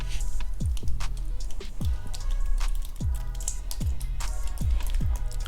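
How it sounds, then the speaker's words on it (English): Water drips from a freshly watered calathea pot into its tray, a slow irregular series of distinct plopping drops, close and clear over a steady background hiss. "I will literally water it until we start to see drips coming out of the bottom"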